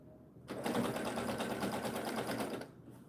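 A sewing machine stitching fabric down runs in one steady, rapid mechanical burst of about two seconds, close and fairly quiet, starting and stopping abruptly.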